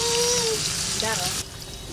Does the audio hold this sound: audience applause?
no